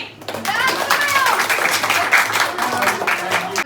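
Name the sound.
children clapping for a guest singer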